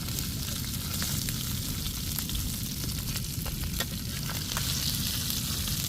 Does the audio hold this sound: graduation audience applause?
no